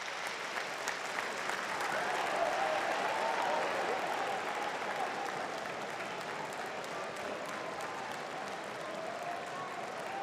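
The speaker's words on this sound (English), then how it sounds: "The applause you can hear is because Patrick Roberts is still waddling round" A stadium crowd at a Sunderland AFC versus Rotherham United football match applauds, a distant, steady wash of clapping with a faint murmur that swells slightly early on and then holds.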